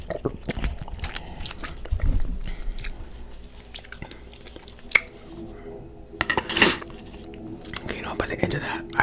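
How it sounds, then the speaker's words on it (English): Chocolate cereal and milk slurped and gulped straight from a bowl, close up, with soft wet swallowing sounds and a few light clinks of bowl and spoon, interrupted by brief whispered or quiet talk. "the spoon thing's not working, so we're going to just drink the rest of this down"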